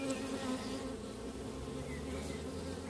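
A steady, dense drone of many bees buzzing close by, continuous and unbroken throughout.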